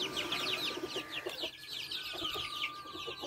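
Russian crested hens cluck continuously at close range, a busy run of soft repeated clucks with small bursts over a low steady hum.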